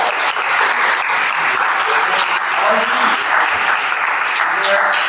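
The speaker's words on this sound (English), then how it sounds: "Round of applause." Loud, sustained applause from the audience at a Carnegie Hill Neighbors candidates forum for City Council District 5, with faint voices mixed into the steady clapping.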